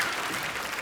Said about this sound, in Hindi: जोरदार ताली लेने के लिए